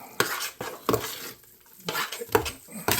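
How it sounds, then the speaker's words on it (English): Salted, peppered mashed potato being mixed in a bowl for Irish colcannon, heard as close, irregular scraping and clacking strokes of a utensil in bursts with a short pause in the middle. "Give that a good mix"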